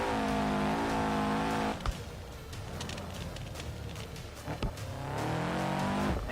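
A car engine with valve train damage in the driving game BeamNG revs hard and steady, drops off with a brief tire noise, then climbs back up, its tone uneven and rough.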